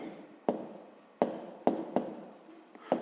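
A pen writes out a maths solution for a fifth-grade division exercise in short scratchy strokes, a handful of quick bursts each starting sharply and trailing off, close and quiet with no talking.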